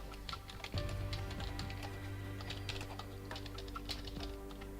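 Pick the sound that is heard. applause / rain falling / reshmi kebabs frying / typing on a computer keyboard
typing on a computer keyboard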